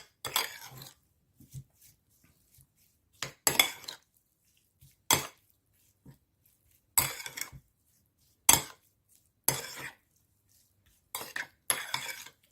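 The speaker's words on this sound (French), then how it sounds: "on mélange le tout et on laisse mariner" A pad see ew marinade of garlic and sugar being mixed in a bowl: short bursts of utensil clinking and scraping, separated by quiet pauses, faint and close.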